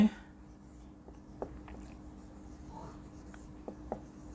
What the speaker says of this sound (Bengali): গায়রে মুনসারিফে এখানে লিখে দিই